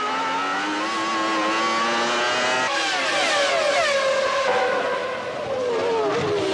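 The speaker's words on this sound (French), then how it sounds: "Après Irvine, il y a une autre Ferrari, celle de Schumacher." A Ferrari Formula 1 car from the 1996 season screams past at high revs, its engine pitch rising and bending as it passes, loud and continuous with no talk over it.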